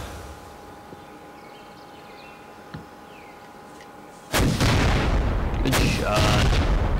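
Gunfire in the video game Crazy Fairies: after a quiet stretch with faint clicks, loud close shots burst in, followed by sustained booming, crackling fire that fills the rest of the clip.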